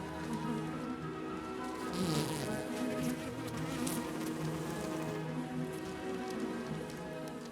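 A colony of bees hums densely around its egg-laying queen, a close, continuous buzzing drone with overlapping wingbeats and faint crackling movement, steady throughout.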